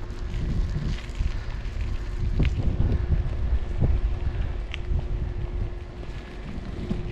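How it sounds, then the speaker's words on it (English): Strong wind buffets the microphone beside a lake on a bright spring day, a rough, gusting roar that rises and falls across the whole stretch with a few small knocks underneath. "Very windy."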